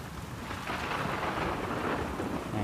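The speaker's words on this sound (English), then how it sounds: "this thundering is..." Rumbling thunder with steady rain in The Last of Us Part II, a dense broadband roar that swells after a brief start and holds loud for the whole stretch, no voices.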